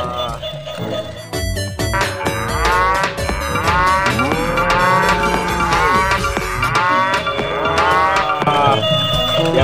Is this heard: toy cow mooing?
yes